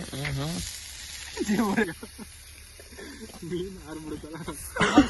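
Chicken lollipops fry in hot oil with a constant bright sizzling hiss beneath lively, overlapping talk from several people close by.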